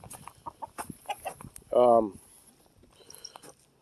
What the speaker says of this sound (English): the baby chicks went into the outside coop